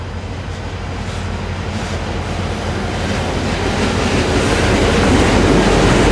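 A CSX Holland Local Y121 freight train slowing at Berry Street on the Michigan Shore Railroad gives a loud, steady rumble and rail roar that swells slightly as it continues.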